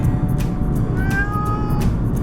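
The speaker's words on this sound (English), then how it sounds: "Ralph meowed every 2 or 3 seconds for the whole journey." Ralph the cat meows during a car journey, two drawn-out plaintive meows about a second apart over a steady low engine and road rumble.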